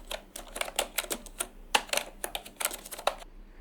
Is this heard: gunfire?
no